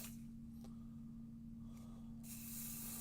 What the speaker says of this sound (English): Now we're going to take our pixie spray, and we're going to spray this.